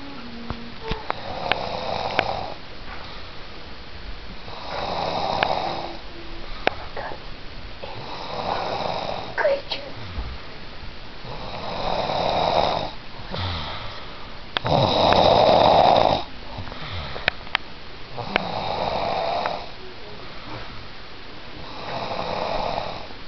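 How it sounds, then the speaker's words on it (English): A wildebeest snores close by, slow and rhythmic, with about eight deep rasping breaths rising and fading at steady intervals over quiet background hiss. "Listen to this wildebeest snore."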